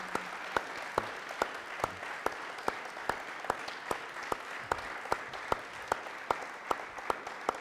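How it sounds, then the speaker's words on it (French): An audience applauds inside a church during a French-language service, a steady wash of many hands clapping that carries on evenly for several seconds, with no talk over it. "je voudrais vraiment qu'on les applaudisse et qu'on les honore pour ça"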